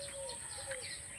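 A jacana calls in a grassy wetland, with faint, thin chirping notes over a soft steady background of ambient noise.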